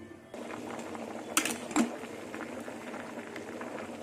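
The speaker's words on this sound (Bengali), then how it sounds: "আলু আর টমেটো সেদ্ধ করতে দিয়ে দিলাম" Potatoes and tomatoes simmer in a covered pan, giving a steady low bubbling and burbling with a couple of brief sharper clinks near the middle, close and moderately quiet.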